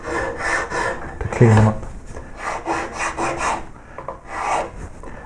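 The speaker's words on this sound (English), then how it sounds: "put a small rasp with a half round face down them like this" A small half-round rasp rasps down the flutes of a carved wooden koi carp tail in quick, close strokes, with scraping rubs running through the whole stretch while a voice speaks briefly.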